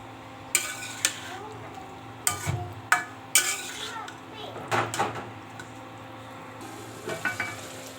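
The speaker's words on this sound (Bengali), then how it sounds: "এই যে পেঁপেটা হচ্ছে দিয়ে খুব ভালো করে কষাবো, ভাজা করবো।" Papaya and taro pieces fry in a pan under a gentle sizzle, interrupted by a series of sharp spatula knocks and scrapes against the metal, heard close and spaced irregularly.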